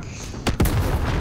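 A single explosion in Call of Duty: Modern Warfare (2019) bursts out as two close, loud broadband blasts about a tenth of a second apart, with a rumbling low tail and faint background behind it.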